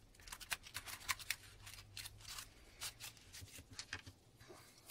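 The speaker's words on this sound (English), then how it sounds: "you cut your mini tinsel trim to 40 centimeters in length" Scissors snip through mini tinsel trim for a honeycomb Christmas decoration, a quick run of close, crisp cuts repeating steadily over a faint hum, with no talking.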